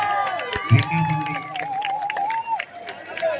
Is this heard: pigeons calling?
no